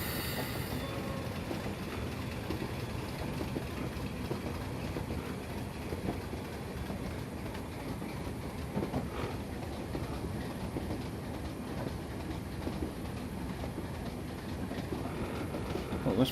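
Simulated train on the Weardale line in Train Simulator rolls steadily along the rails, a continuous rumble with wheel noise and faint squeal persisting throughout, with no talk over it.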